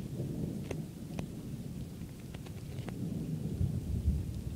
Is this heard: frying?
no